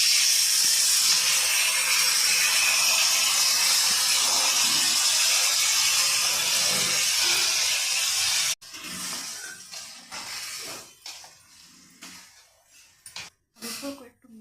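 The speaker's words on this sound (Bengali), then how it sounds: "এবার তেলের মধ্যে কালো জিরে, একটু হিং আর হচ্ছে শুকনো লঙ্কা আর মৌরি ফোড়ন দিয়েছি।" Nigella seeds, asafoetida, dried chilli and fennel hit hot oil for a plum pickle, giving a loud, even sizzling hiss for several seconds before it cuts to quieter clatters and knocks.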